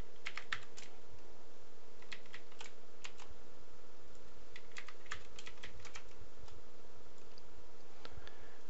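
Bursts of computer keyboard typing, quick clusters of sharp key clicks separated by short pauses, close and fairly quiet, with no one speaking.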